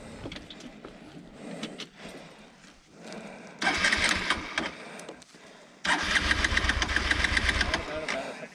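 Hero Xpulse 200 motorcycle engine on an off-road hill trail, with two loud bursts of engine revving between stretches of quieter idle, rider noise and voices. The last burst runs steadily to the end.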